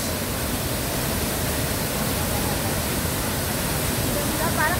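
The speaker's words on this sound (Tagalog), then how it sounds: "So ito ang Talay Falls." Talay Falls, a waterfall in Laguna, roars as a steady, loud broadband rush of falling water, continuous and close, with no break across the whole stretch.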